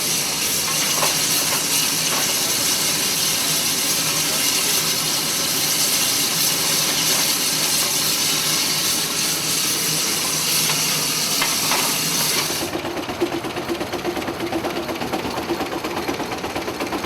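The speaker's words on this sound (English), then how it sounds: "In addition to the full-size steam engines exhibited, the log also shows a number of scale engines." Operating scale-model steam engines at a steam show hiss and chuff continuously, a dense sizzling steam noise that drops abruptly to a quieter hiss near the end, with no talking.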